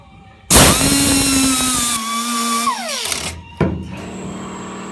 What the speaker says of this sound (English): So I took this little air sander.